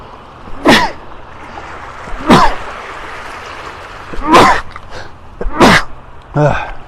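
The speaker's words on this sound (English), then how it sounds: "Uh-oh, I'm gonna sneeze." Several loud, close sneezes come in a series, about a second or two apart, over faint background noise, on a beach in North Naples, Florida.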